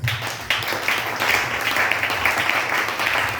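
A church congregation breaks into applause to acclaim the Lord, a dense burst of many hands clapping that starts abruptly and carries on steadily, loud and filling the room.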